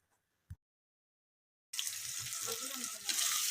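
Three large onions, sliced lengthwise, hit hot oil in a pan for mutton kulambu, a quiet tap first, then after a silent gap a bright, steady sizzle that swells louder toward the end.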